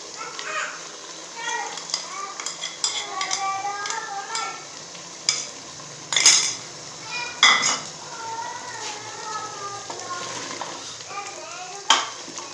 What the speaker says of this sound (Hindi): इसको अच्छे से मिक्स करेंगे।